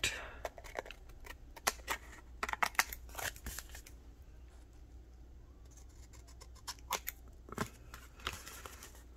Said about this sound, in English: These scissors aren't cutting good either.